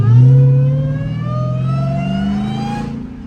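A 1000 hp Dodge Charger with a Hellcat engine and no hood revs loudly and close by, its engine pitch climbing steadily through a single sustained pull of about three seconds.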